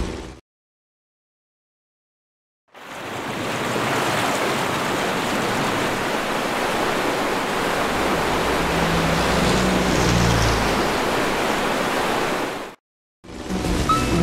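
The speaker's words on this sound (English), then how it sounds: "River's flowing again" River water rushes in a Disney Planes video game, a broad, steady roar that swells in after a short silence and holds for about ten seconds, with a low rumble partway through before cutting off.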